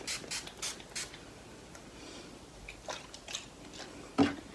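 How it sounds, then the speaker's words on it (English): Several quick bursts of makeup setting spray mist hiss close by around a face, short and separated by pauses, with one sharper puff near the end. "I'm just going to close my eyes and spray it around my face"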